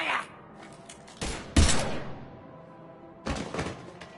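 A few loud, sharp gunshot bursts from a Mass Effect 3 standoff, separated by short quiet gaps, close and punchy.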